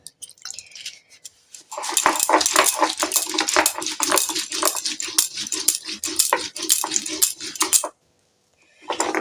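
Ginger, green chillies, peppercorns and cumin being ground on a flat grinding stone, a rapid run of gritty scraping and knocking strokes, close and loud, starting after a quiet moment and stopping abruptly near the end.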